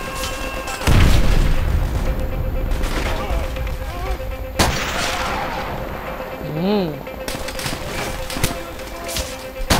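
Gunfire and a grenade blast in the video game Call of Duty: World at War, with a heavy boom early on, then scattered shots and bursts, while players talk over the action.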